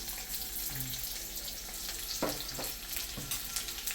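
Onion frying in sunflower oil in a pan for a Maharashtrian masala matki dal, a quiet steady sizzle with a few soft stirring scrapes, no talk.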